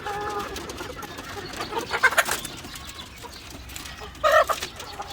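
Young chickens on a farm, with a few short clucks and chirps rising at intervals over a low background murmur of the flock, fairly close, with someone talking faintly underneath.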